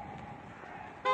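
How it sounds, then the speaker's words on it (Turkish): Quiet street traffic in central Vienna, Austria, then a loud car horn blast cuts in right at the end. "Adam geç diyor, adam korna basıyor."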